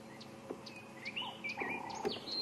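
A robin sings gently from a drainage line in the African bush during a sunrise safari walk, soft whistled phrases that rise and fall, faint and somewhat distant over a low ambient hum.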